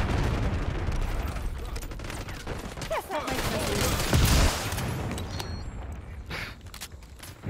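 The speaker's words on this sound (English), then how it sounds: "What does this do, though? A whole rocket launcher?" A rocket launcher fires during a Black Ops 6 match, with a deep low boom near the middle standing out briefly above a dense wash of in-game gunfire and battle noise.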